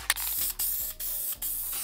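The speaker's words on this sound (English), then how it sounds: "then we're gonna put the primer on" Spray primer hisses from an aerosol can onto a sanded 3D-printed Iron Man cosplay prop in four short bursts separated by brief pauses, close and fairly quiet.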